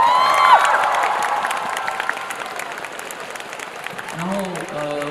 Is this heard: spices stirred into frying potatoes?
no